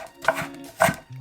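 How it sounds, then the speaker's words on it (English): A knife chopping fresh ginger small on a board: two distinct, close, crisp chops about half a second apart, with a faint low hum between them. "Just chopping it up real small."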